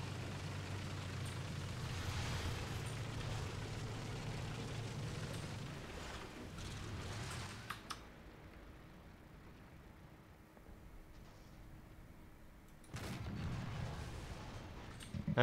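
An incoming shell slams into a JagdPanther tank destroyer during a War Thunder ground battle. A low engine rumble runs throughout and fades to quiet, then a sudden heavy impact bursts in near the end.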